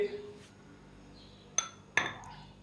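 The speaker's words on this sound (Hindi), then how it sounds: "और इसको अच्छे से मिक्स कर लेंगे।" A spoon mixes vanilla custard powder with milk in a bowl, giving two sharp metallic clinks against the dish over a quiet background with no talk.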